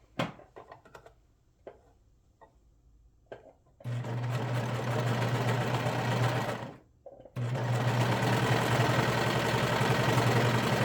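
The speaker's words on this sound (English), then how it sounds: "we're just going to go ahead and sew up that side seam" A sewing machine runs a sweater side seam in two long loud bursts of steady motor whir, separated by a brief pause, after a few quiet clicks and handling sounds at the start.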